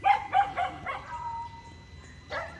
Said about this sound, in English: Oh, there's the other dogs. Okay, now we gotta... Here we go. We'll have a little chorus going on here.